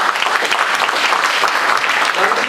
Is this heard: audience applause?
yes